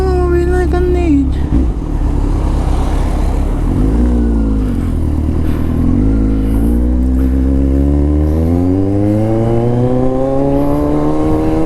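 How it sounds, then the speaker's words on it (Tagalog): A motorcycle rides along a road, its engine droning loud and close with rising and falling pitch as it accelerates and shifts, while someone talks over it. "Ngayon lang ulit tayo nakapag-motor."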